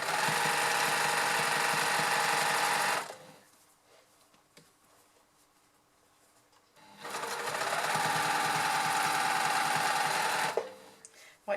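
A sewing machine topstitches a twice-folded knit sleeve hem, running in a steady whirring burst, pausing into near silence, then running again for a second long stretch.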